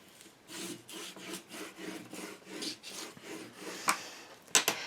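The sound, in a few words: burnishing paper down onto a craft folio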